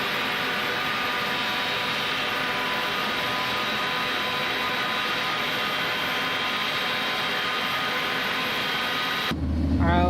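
Airbus A300 jet engine spooling up inside a flight simulator, a steady loud whine and rumble holding through the clip before cutting off abruptly near the end.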